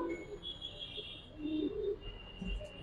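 Giribaz pigeons coo softly in low, brief bursts against steady background hiss, with faint higher chirps from other birds.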